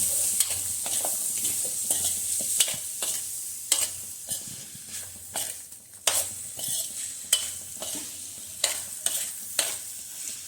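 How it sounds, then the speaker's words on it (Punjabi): Homemade paneer slices roast in a pan for a shahi paneer, giving a steady close sizzle. A utensil clinks and scrapes against the pan in repeated short strikes. "ਇਹ ਚ ਆਪਾਂ ਪਾਣੇ ਨੇ ਆਪਣੇ ਸਲਾਈਸਸ ਜਿਹੜੇ ਨੇ ਚੀਜ਼ ਦੇ ਆਪਾਂ 2 ਮਿੰਟ ਰੋਸਟ ਕਰ ਲੈਣਾ"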